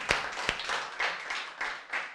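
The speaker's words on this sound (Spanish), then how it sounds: "Denle ese aplauso al Señor." A church congregation claps in praise to the Lord during a sermon, a few sharp separate claps at first, then rhythmic rounds of hand-clapping, fairly close and lively.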